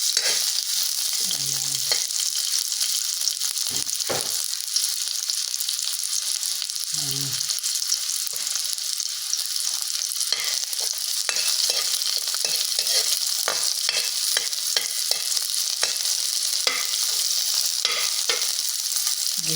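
Onion and garlic sauté in cooking oil ahead of a squash vegetable dish with a continuous loud hiss and crackle, broken by stirring scrapes. A voice speaks briefly once.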